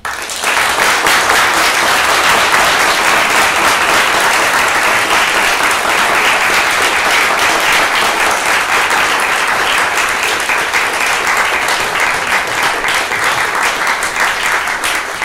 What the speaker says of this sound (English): Please join me in giving a round of applause for our distinguished guest and Regent lecturer, Chairman Greg Sarris.